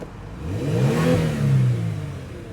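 A 2018 Kia Stinger all-wheel-drive car being revved: the engine climbs in pitch, eases back, then swells again in a second rev, close and fairly loud, with no talking.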